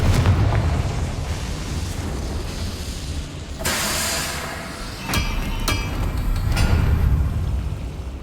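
A fiery Confringo blast spell from the Hogwarts Legacy video game erupts in a sudden roaring burst, followed by a couple of sharper pops and crackles over a rumbling low background.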